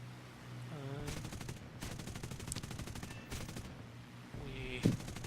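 Machine gun fire aimed at an SM-79 Italian bomber in War Thunder, heard as bursts of rapid rattling shots from a P-40F-10 Warhawk under a steady engine drone, with brief pauses between the bursts.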